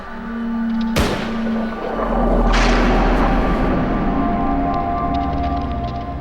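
Two gunshots ring out at a fleeing man, a sharp loud crack followed by a second blast about a second and a half later, each leaving a long rumbling echo over a low droning background.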